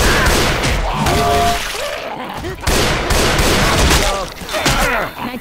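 Gunfire in Left 4 Dead 2, loud and continuous over the whole stretch, with dense crackling bursts, a brief dip near the middle, and faint voices mixed under the shots.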